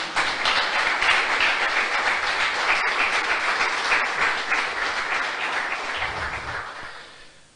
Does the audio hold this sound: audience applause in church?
yes